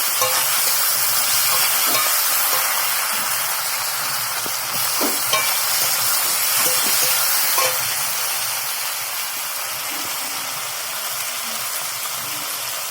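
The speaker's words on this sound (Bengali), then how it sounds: "প্রথমে আমি টমেটোটা দিয়ে দিচ্ছি দিয়ে ভালো করে আমি কষিয়ে নেব" Tomatoes frying and being stirred in a pan for a Bengali rohu fish curry, a continuous loud sizzle and hiss with occasional scraping stirs, close up, with no talking.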